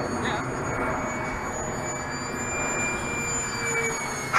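An RC model plane flies steadily overhead, its high whining motor drone sustained and fairly loud throughout, with thin tonal harmonics gliding in pitch as the throttle shifts.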